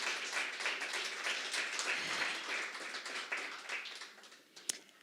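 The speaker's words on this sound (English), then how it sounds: "Can we give him another round of applause?" Audience at a campus STEM inclusion talk gives a faint, steady round of applause, a dense patter of many hands continuing for several seconds before tapering off.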